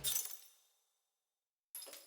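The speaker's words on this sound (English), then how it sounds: "and then like this broken glass sample." A broken glass sample used as a snare layer in a music production, heard as a bright crash that rings out and decays into silence before a second hit starts.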